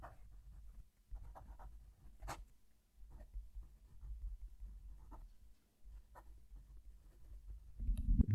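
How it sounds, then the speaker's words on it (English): A fountain pen writes a sentence on paper, picked up by a microphone close to the page: quiet, intermittent scratchy strokes and small taps broken by short pauses, ending in a louder rustle. "Going to move the mic down to the page and write a sentence."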